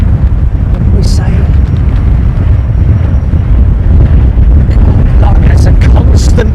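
Harsh wind buffets a microphone outdoors beside Heathrow's runway 27L, a loud, continuous low rumble that masks everything, with faint voices talking beneath it.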